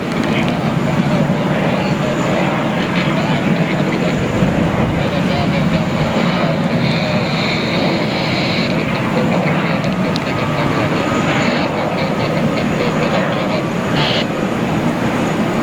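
An Air France Boeing 777-300 jet on final approach to land at New York JFK, a steady, loud broadband engine roar filling the whole stretch without letup.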